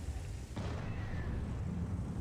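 Tank cannon fire in the World of Tanks game: a single sharp boom near the start that dies into a continuous rumbling battle background, with no speech.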